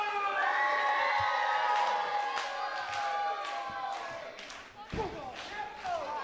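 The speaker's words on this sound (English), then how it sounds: "The crowd here at Box Arena are fired up" A wrestling crowd at Box Arena cheers and shouts through a four-way elimination heavyweight championship match, a fairly distant roar running under a commentator's voice, with a few sharp thuds from the ring.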